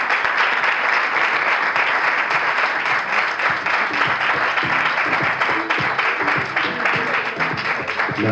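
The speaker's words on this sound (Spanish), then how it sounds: "Fuerte aplauso para ella." Sustained applause from an audience at a tourism queen pageant in Veracruz, dense steady clapping that fills the whole stretch, loud and close with no voices on top.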